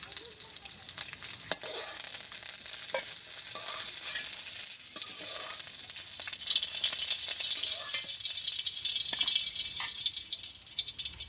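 Small khalsa fish frying in oil in a village kitchen, a continuous crackling sizzle with scattered utensil knocks and stirring rattles, growing a little louder toward the end, no talk.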